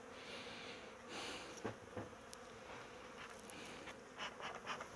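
Honey bees buzz steadily around an open hive, a dense insect drone that swells as individual bees pass close, with no talking.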